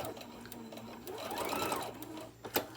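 A sewing machine runs a short back stitch on a small tote bag, a quiet, close mechanical whir that rises and falls over a couple of seconds and ends in a few sharp clicks.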